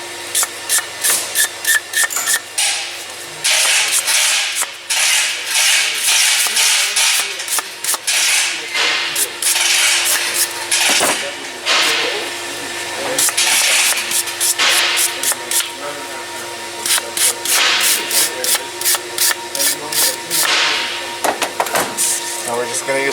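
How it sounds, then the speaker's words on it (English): Brembo brake pads from a Genesis G70 rubbed back and forth on sandpaper laid on a flat surface, giving loud, steady, scratchy rasping strokes that repeat closely and continuously throughout with only brief pauses. "Now we're just gonna use sandpaper"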